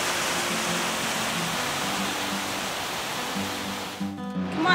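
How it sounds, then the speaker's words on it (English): A waterfall near Portland, Oregon roars in a steady, loud wash of rushing water, dense and unbroken, nearby and alone without voices. "Watching the force of all the water gushing down is just astonishing."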